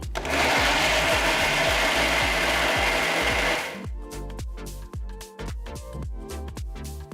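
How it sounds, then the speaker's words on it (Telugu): A mixer grinder pureeing sliced bananas whirs loudly for a few seconds, then winds down into rattling, uneven motor pulses as the blades slow. "ఈ మొత్తాన్ని మెత్తటి ప్యూరీ అయ్యేట్టు రుబ్బుకోవాలి."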